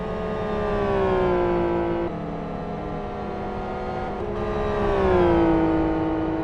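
A GT1 race car leaves the pits on cold tyres, its engine a loud, close whine that holds, dips with a gear change, then climbs and settles again.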